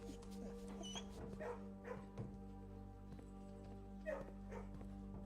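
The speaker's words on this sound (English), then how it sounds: "What happened to this dog?" A dog in the video game Blue Prince whimpers and yips in short bursts over a steady droning game soundtrack, fairly quiet and close.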